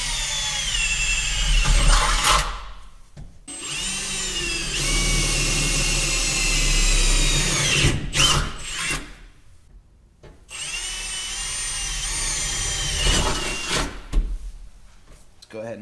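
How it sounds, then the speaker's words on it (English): A power drill bores holes for a car battery bracket on a Nissan S14 in several loud whining bursts broken by short pauses, with a voice talking over parts of it. "I'm gonna mark out my holes, drill them out, and through bolt the bracket to the car."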